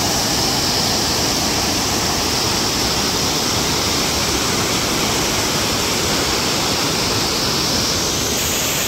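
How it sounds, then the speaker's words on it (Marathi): Small waterfall in a rainy monsoon setting, a steady loud rushing roar of falling water filling the scene without pause, no voices. "इथं आणखी एक छोटासा वॉटरफॉल आहे"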